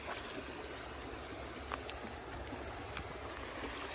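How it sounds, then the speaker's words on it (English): Water in a small creek runs steadily with a soft, continuous broadband rush and trickle, close by and fairly quiet, with no talking over it. "It's the creek."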